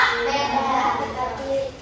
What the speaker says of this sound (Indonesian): boleh tepuk tangan sekali lagi untuk kita semua